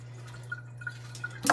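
Water drips in scattered soft drops in a kitchen while a pumpkin is rinsed for candied pumpkin, over a low steady hum, ending in a brief louder splash.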